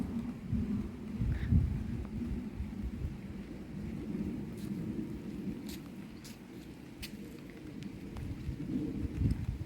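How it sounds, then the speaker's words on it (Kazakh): Heavy rain falling steadily in a yard, a dense continuous roar with low rumbling surges and occasional sharper patters, loud and close throughout. "Бүгін бізде жаңбыр жауып тұр. Күшті болып тұр."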